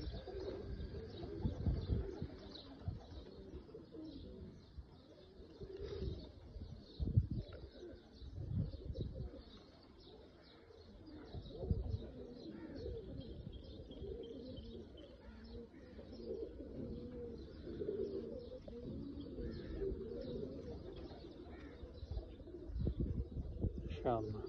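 A flock of Oman Teddy pigeons keeps up a continuous low cooing, mixed with scattered chirps and shuffling, while a person talks intermittently over the birds.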